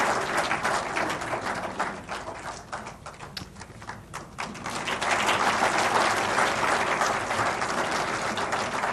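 An audience at a ceremony in Islamabad claps in sustained applause, dipping briefly midway before swelling back to a dense, loud wash of hands that fills the whole stretch.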